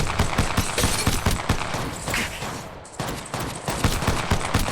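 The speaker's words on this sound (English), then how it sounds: "Opening fire." Rapid automatic gunfire in the video game Apex Legends, loud dense bursts of repeated shots firing almost continuously with a brief lull midway, no talking over it.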